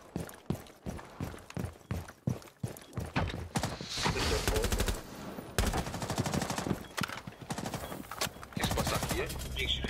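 Gunfire in the tactical shooter Rainbow Six Siege: a rapid run of evenly spaced shots, then dense bursts of automatic fire, loud and close, with players talking over parts of it.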